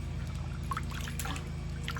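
Water pours into a backyard paddling pool on a warm day, a steady close gurgling trickle over a constant low hum, with faint splashy bursts and no voices.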